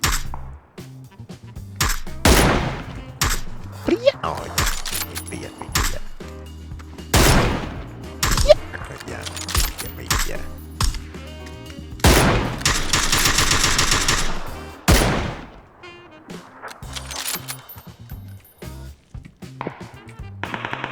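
Sharp bursts of gunfire in PUBG come in separate volleys, some rapid automatic strings and some single shots, loud and clear against quiet gaps.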